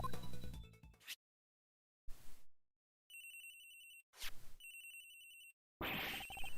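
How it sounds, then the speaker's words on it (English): A phone rings in the Ace Attorney Investigations video game, with two bright electronic ring bursts separated by silence, set between short clips of game music and effects. "It's ringing from somewhere, sir."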